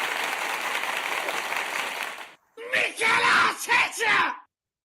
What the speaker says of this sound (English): We're going to give you a quick round of applause.